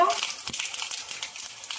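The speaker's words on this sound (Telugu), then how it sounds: "ఇప్పుడు తాలింపు దినుసులు వేసుకుంటున్నాను" Dried red chillies and tempering spices crackle in hot oil for an Andhra fish pulusu, a bright steady sizzle with a brief louder spatter at the start and a soft thump partway through.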